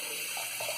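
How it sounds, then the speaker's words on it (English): Tap running warm water into a sink for lathering a boar shaving brush, a steady close broadband rush of flowing water with slight splashing changes near the end, no talk. "I'm filling up with warm water."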